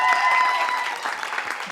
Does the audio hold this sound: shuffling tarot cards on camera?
no